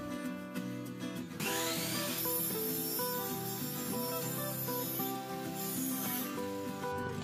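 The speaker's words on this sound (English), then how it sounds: "I'm cutting one of these boards shallower than the rest of the pieces" A power tool cuts through a scrap wooden board, a steady, loud whining buzz running near and alone with slight shifts in pitch as the blade moves through the wood.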